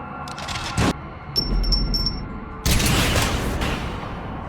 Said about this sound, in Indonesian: Mendengar suara tembakan, Anna dan yang lain langsung bergegas menuju